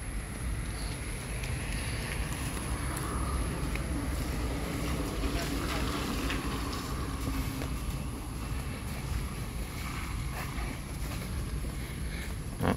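Wind blows across a graveyard after rain in a steady, rushing roar that buffets the microphone throughout, while people talk faintly underneath.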